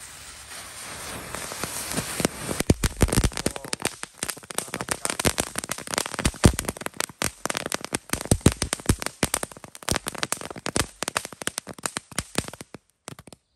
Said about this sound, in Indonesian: Selanjutnya kita nyalakan mercon sumbu, kita jadikan satu.